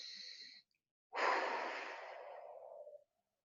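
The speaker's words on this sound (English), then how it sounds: "Deep breath in." A deep, breathy inhale during a workout, a long airy rush that swells quickly and fades over about two seconds, preceded by a shorter breath sound and then silence.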